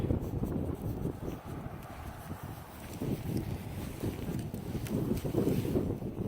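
Strong wind blows outdoors during arrowhead hunting, roaring and buffeting the microphone in steady, gusting low rushes, loud and continuous with no talk.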